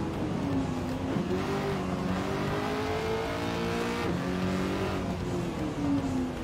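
A race car's engine drones steadily while driving in Gran Turismo 7, its pitch rising and falling with throttle and gear changes, with faint tire squeal over a constant loud mechanical hum and no talking.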